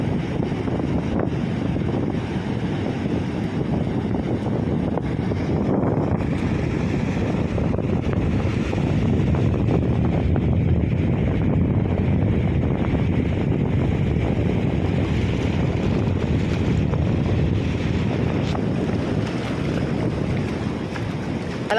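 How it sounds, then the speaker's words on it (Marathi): Sea waves rolling onto a sandy beach at high tide where fishermen are working the shore, a steady, loud, unbroken roar of surf and wind that fills the whole stretch without any voices. "या लाटा बघा आता आपल्याकडेच येत आहेत"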